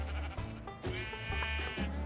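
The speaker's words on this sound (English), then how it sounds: "Oh, there's our last sheep." A blocky video-game sheep bleats several times in quick succession, each call loud and wavering and heard alone.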